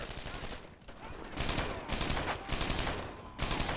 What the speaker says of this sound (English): Alright, with that, Fryer, go ahead and get fire on them.